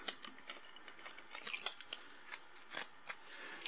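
Scissors snip in a quick, uneven series of soft, close clicks, cutting material for a small Halloween skeleton miniature diorama, with faint rustling in between.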